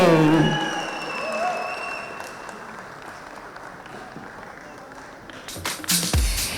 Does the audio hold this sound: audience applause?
yes